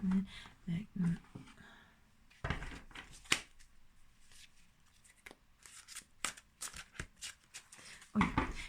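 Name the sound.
shuffling a deck of cards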